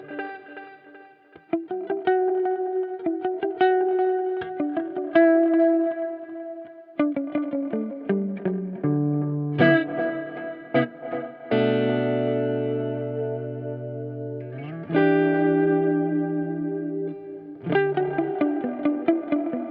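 Erica Synths Echolocator precision delay with its reverb added, turning a melodic synth line into lingering washed-out repeats and a sustained reverberant tail; steady, moderately loud, no talking.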